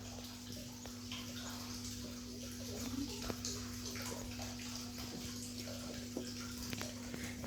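Water flows steadily out of a pipe at a cleaned-out well, a soft continuous rushing stream with a faint hum and a few small ticks in the background.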